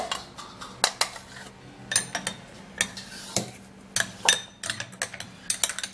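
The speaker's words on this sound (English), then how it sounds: "I'll have to transfer my ingredients into this bowl" Ingredients being transferred into a bowl, close clinks and scrapes of a utensil against the dish in irregular bursts, with brief sharp knocks between quieter moments and no talking.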